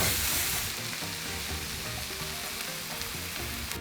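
Tilapia fillets sizzle on a Blackstone griddle, a loud close hiss with crackling oil that eases slightly after the first half-second and then holds steady.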